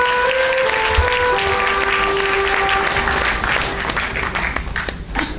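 An audience applauds a singer at a Vietnamese music performance, a dense wash of clapping that swells and continues, with lingering tones from the stage instrument at the start.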